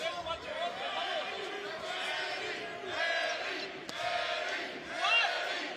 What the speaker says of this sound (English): Crowd getting on the side of Vazquez.